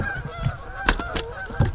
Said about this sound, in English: What is going on with these ducks?